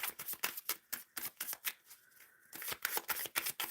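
Tarot cards are shuffled in quick, rhythmic riffles, a soft crisp flutter of repeated card slaps with a brief lull midway, close and quiet.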